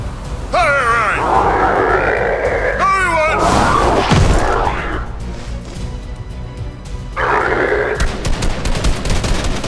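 Gunfire in Fortnite: rapid bursts of automatic shots and heavy impacts, with a crash and boom in the middle of the exchange and grunting voices around it.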